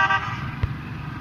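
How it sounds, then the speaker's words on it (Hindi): A single short car horn toot sounds once from the road amid a traffic jam, heard over a low rumble of engines and road noise. "रश देखो यार, ट्रैफिक जैम लगा हुआ आगे मेरे ख्याल से।"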